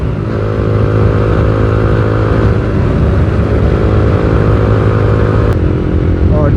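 Yamaha R15 Version 2 motorcycle with 50,000 km on it, engine droning loud and steady at high revs through fourth gear toward 100 km/h, with wind noise throughout.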